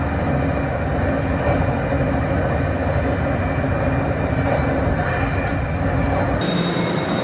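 A train running across Taiwan gives a steady, loud rumble of wheels and carriage noise throughout, ending with a brief high squeal.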